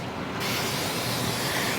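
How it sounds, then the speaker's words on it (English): A can of cooking spray hisses onto a griddle pan in one continuous close burst lasting under two seconds. "So I'm going to spray my pan down."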